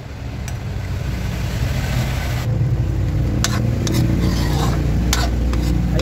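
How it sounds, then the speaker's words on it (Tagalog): Coconut milk boiling and thickening in an uncovered pot, a steady loud bubbling and sizzling hiss with occasional clinks of a utensil against the pot. "kulong-kulo na yung ating gata at lumapot na siya"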